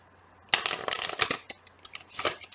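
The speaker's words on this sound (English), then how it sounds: "One more shuffle." Tarot cards being shuffled up close, a rapid riffling flutter in two bursts with a short pause between, no talking.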